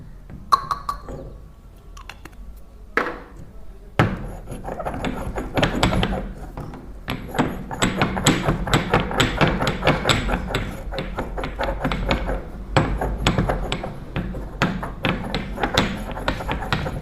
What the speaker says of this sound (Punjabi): ਇਹਨੂੰ ਪਹਿਲਾਂ ਆਪਾਂ ਖਰਲ ਕਰਾਂਗੇ ਉਸ ਤੋਂ ਬਾਅਦ ਇਹ ਦਵਾਈ ਦੇ ਵਿੱਚ ਪਾਉਂਗਾ